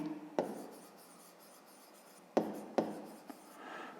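Pen or pencil writing on paper for a fifth-grade maths exercise: a few sharp close taps and short scratching strokes, with quiet gaps between them, alone with no talk.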